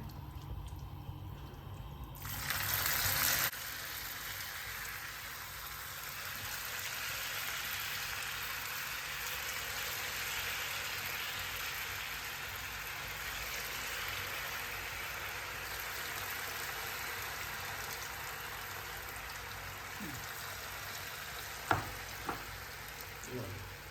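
Potato vada batter spooned bit by bit into hot oil, frying with a dense, continuous close sizzle throughout, briefly louder near the start and with a few light clicks near the end.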